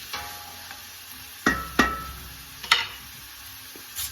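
Garlic hits a frying pan for a Sunday meat sauce, giving a faint, steady sizzle broken by a few sharp clinks and scrapes of a utensil against the pan.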